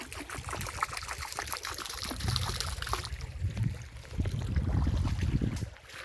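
Water pours and splashes out in a steady, gurgling stream, swelling louder toward the end before trailing off.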